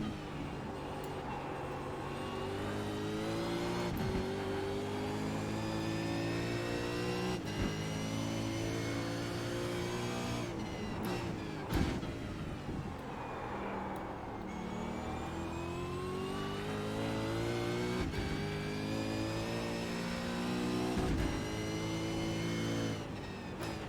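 A Ford Mustang Supercar races around Bathurst in a VR racing game, its engine droning loud and steady with rising revs broken by several quick dips at gear changes, no voices.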